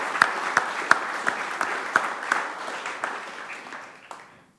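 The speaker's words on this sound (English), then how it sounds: "I think we need to give a big round of applause for everyone tonight that's put this together." An audience at an evening awards ceremony applauds in a brief burst of dense, close clapping with sharp individual claps standing out, fading away over the last second.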